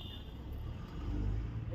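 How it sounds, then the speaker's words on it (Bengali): A car engine hums and revs faintly in a short, steady stretch of low rumble with no voices. "রাহিব তুমি কি গাড়ি চালাচ্ছ বাবা"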